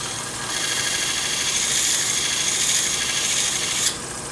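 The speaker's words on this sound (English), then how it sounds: "I stick my knife on there. And I just sharpen it like that" A knife blade held against a homemade power strop gives a steady, close rasping and rubbing hiss over a continuous motor hum, lasting about three seconds before easing off.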